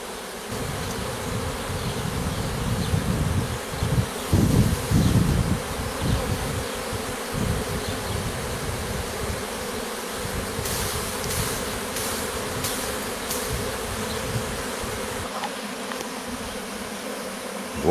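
A honeybee swarm clustered in fir branches hums with a close, continuous buzz of many wings, fluctuating slightly in intensity and loudest for a moment partway through, with no talking.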